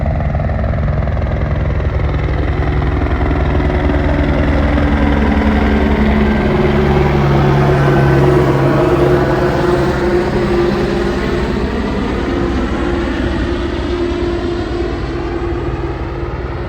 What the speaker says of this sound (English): We're gonna get a helicopter coming through here for a second.